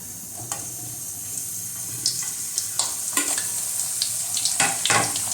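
Puris frying in groundnut oil give a steady close sizzle with occasional sharper crackles and bursts as dough hits and bubbles in the hot oil, with no voices over it.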